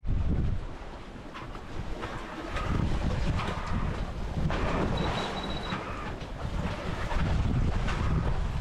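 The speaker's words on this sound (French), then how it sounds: "Le vent affaiblit," Steady wind roars across the microphone aboard a sailboat at sea, with water sloshing against the hull beneath it; a constant, loud, blustery rush with no voices.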